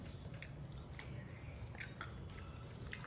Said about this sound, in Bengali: শিমটা একটু খেয়ে দেখি।